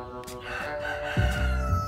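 Chickens in a coop give a crowing, clucking call over a steady background, with a louder, nearer burst of fowl sound coming in partway through.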